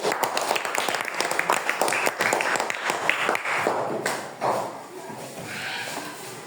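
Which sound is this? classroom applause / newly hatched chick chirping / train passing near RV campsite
classroom applause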